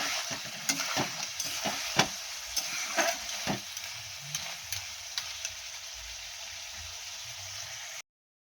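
Crab curry sizzles in a pan as a spoon stirs and scrapes in quick irregular knocks at first, then the frying hiss continues on its own before cutting off abruptly.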